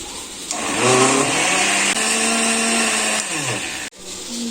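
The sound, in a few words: blender grinding spinach with green chilies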